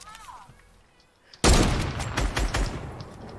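Gunfire in the Fortnite battle royale video game: a quiet stretch breaks into a sudden loud blast, followed by sustained crackling shots and rattling.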